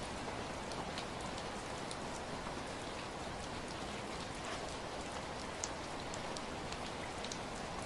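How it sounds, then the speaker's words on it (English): Rain falls steadily on forest leaves in Uttarakhand, a dense, even patter of drops with occasional sharper taps, continuous throughout. "The rain tapped softly on the leaves."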